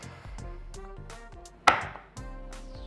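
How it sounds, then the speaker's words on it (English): A kitchen knife chops through a bar of chocolate on a cutting board, quick close tapping cuts in an uneven rhythm with one louder crack near the middle, no talking. "This is 6 ounces of chocolate. We're gonna cut it up and put in the double boiler."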